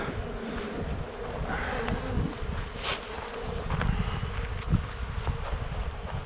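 A honeybee colony shaken from its hive, giving a dense, continuous close buzzing of many bees, with wind rumbling on the microphone and a few sharper knocks.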